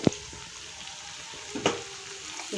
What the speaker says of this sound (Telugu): ఇదిగోండి ఉల్లిపాయలు అయితే వేగినాయి.